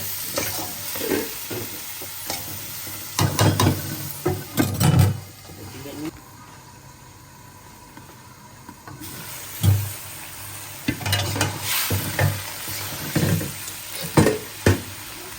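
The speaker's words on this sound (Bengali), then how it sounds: "দুপুরের জন্য তরকারি কষা রান্না করতেছি" Curry kosha stir-fried in a pan: a spatula scrapes in repeated rhythmic bursts over a constant sizzle, with a quieter pause midway before the stirring resumes.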